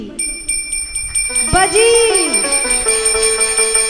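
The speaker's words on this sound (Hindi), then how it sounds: "घंटी ऐसी बजी" A bright bell rings out with a sustained metallic tone that swells and lingers, over a steady high ringing background and faint voices.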